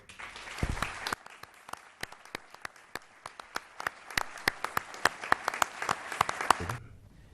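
An audience at a tribute to Ambassador Ali Maher El-Sayed claps warmly. Dense applause builds, with sharp individual claps standing out more and more, before it stops abruptly near the end.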